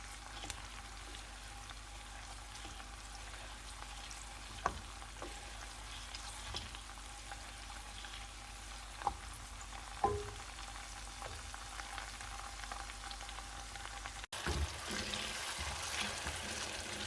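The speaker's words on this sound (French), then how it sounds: "Je mélange." A quick Tunisian sauce fries in a pan and is stirred, giving a soft, continuous sizzle with occasional faint scraping taps, followed by a brief louder rustle near the end.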